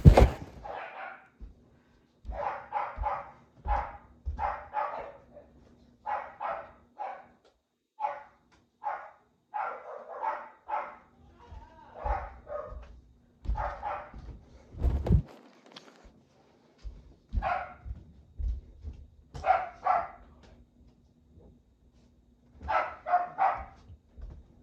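Several dogs barking in repeated bursts through an indoor room, fairly close and loud, with short pauses between volleys and a single sharp thump midway.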